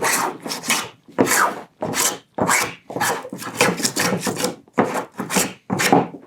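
Small Japanese hand plane shaving wood in repeated quick strokes, each a crisp rasping swish with short gaps, close and loud, no talking.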